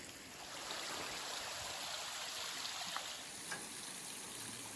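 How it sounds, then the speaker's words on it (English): Water dripping and trickling down a mossy mountainside in Austria or Germany after rain, a steady soft hiss of many drops and runoff with a few sharper individual drips, faint and continuous. "You can listen to the drops."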